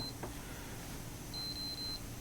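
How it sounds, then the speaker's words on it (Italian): A Cressi Nepto dive watch sounds its depth alarm, a faint high-pitched electronic beep followed by a short series of rapid beeps over a quiet hiss. "l'orologio emette 3 serie di beep e l'indicazione di profondità inizia a lampeggiare"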